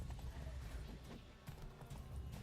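Rapid clip-clop of a horse galloping in The Witcher 3, a steady rumbling run with an occasional whinny and faint voices mixed in.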